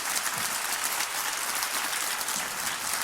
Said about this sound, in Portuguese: Você pode aplaudir o Senhor nesse momento?